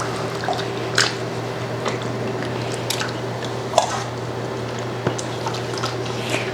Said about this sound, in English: have beautiful puree pouring out into my 5-gallon bucket